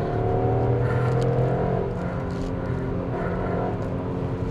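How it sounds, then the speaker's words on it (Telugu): Skoda Kylaq with a 1.0-litre three-cylinder turbo petrol engine and manual gearbox, running steadily with a loud, continuous droning hum that rises and settles slightly, heard close with no talk. "6000 RPM వరకు రెవ్ అవుతుందండి."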